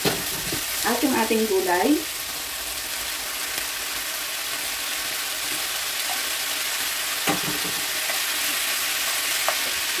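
Sausage and vegetables sizzling and frying in a pan, a loud, steady hiss with occasional stirring scrapes, while a voice speaks briefly near the start.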